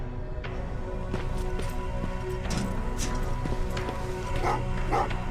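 Dogs bark repeatedly in the first-person shooter Terminator: Resistance, sharp yaps and woofs at irregular intervals over a steady low in-game ambient drone.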